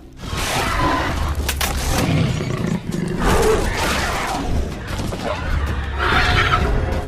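Panthers attack a mother bird in a film scene: continuous loud roaring and snarling with harsh, whinny-like animal cries and bursts of crashing commotion throughout.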